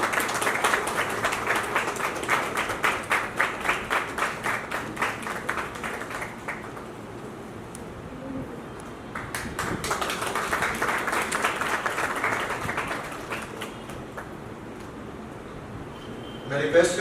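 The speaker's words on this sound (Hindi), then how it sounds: "एक बार जोरदार तालियां हो।" An audience at a political event applauds in two rounds of brisk, crowded clapping separated by a quieter stretch, with a voice talking over parts of it.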